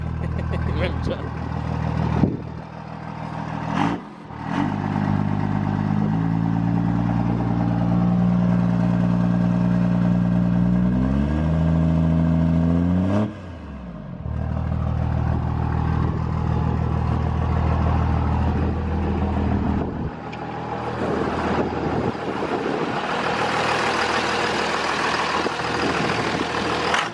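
A custom truck's engine idles cold, then revs up through several rising throttle pulls to higher RPMs before dropping back, loud and close with a deep rumble throughout.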